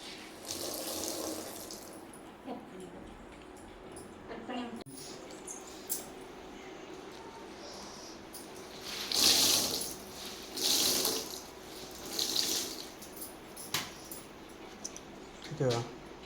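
Water runs from a household tap and is collected in bursts, splashing hiss rising and falling in several separate pours, with a person speaking quietly in between and faint background clatter.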